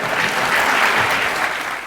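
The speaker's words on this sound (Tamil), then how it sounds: "அதனாலதான் மக்கள் கைத்தட்டுறாங்க." Loud audience applause rises in a television studio during an Aap Ki Adalat courtroom-style interview show, a thick, continuous wash of clapping that swells briefly and then starts to fade.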